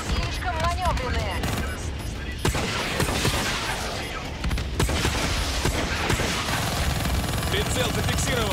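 Dense bursts of rapid aircraft gunfire in the video game Call of Duty: Black Ops III crackle and boom in a hectic mix with engine roar and whooshing effects, with voices talking in Russian over the action.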